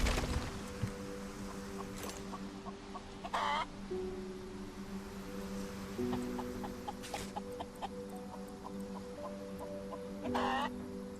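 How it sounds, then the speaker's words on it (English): Chickens in a solarpunk animal farm video game cluck and squawk in repeated short bursts over a steady droning hum, with louder, rising calls popping up every few seconds. "I hear a lot of clucking."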